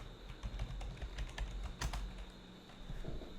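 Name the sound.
typing a password on a computer keyboard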